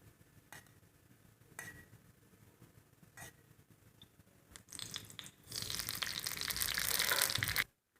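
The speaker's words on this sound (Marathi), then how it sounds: "आता आपण एका कढईत फोडणीसाठी तेल मोहरी टाकून घेऊ।" Mustard seeds hit hot oil in a kadhai for a tempering, starting as a few faint ticks and then rising into a loud, dense spluttering crackle for about three seconds before cutting off abruptly.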